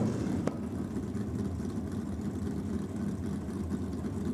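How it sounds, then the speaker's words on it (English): A 192-cubic-inch Holden six-cylinder engine in a period-style Fiat Topolino race car rumbles steadily at a track, a low continuous drone at moderate distance with a brief click near the start. "192 cubes of Holden power plant on board this car"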